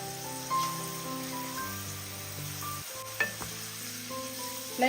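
Raisins made from home-dried green grapes fry and puff in oil over a medium flame, giving a steady soft sizzle under sustained tonal background music, with a few brief clinks.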